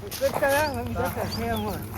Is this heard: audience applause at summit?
no